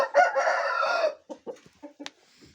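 A hen gives a long, strained squawk followed by a series of short, soft clucks, close and otherwise quiet.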